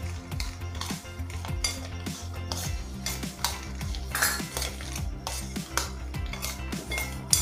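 Fried chickpeas tossed with chaat masala in a metal pan for hotel-style dry chana, with a spoon or spatula steadily scraping and clinking against the pan in a busy, continuous rhythm close up, no talking.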